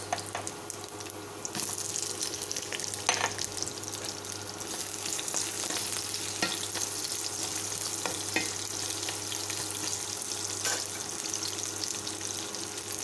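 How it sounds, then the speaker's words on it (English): Garlic and onions sauté in hot oil with a constant, fairly soft sizzle over a low hum, broken by occasional clinks of a utensil. "This is a hot oil. We will saute the garlic and the onions."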